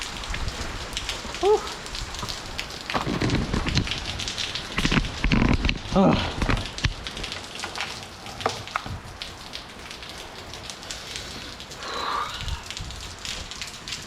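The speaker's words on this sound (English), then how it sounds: "It's definitely more rain." Heavy rain pours steadily with crackling patter while offshore off Southern California, as a person breathes out and makes a brief exclamation over it.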